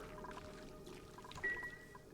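Water pumped in Oxygen Not Included, a soft pouring trickle that runs steadily with a brief stronger gush partway through, faint and with no talk.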